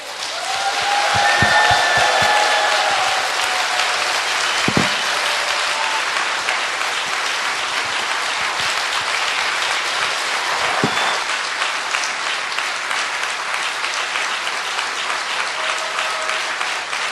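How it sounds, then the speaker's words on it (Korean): An audience at a talk concert in Korea gives a former prime minister a long, loud, continuous round of applause that keeps going without a break. "나오실 때 전국 어느 곳에서 들어볼 수 없는 박수로 환영해 주실 수 있을까요?"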